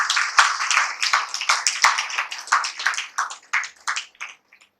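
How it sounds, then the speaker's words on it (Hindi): At a meditation center, an audience claps together in honour of Kabir. The claps are close and steady, and they quicken, then thin out and fade over about five seconds. "तालियां बजाएंगे कबीर जी के।"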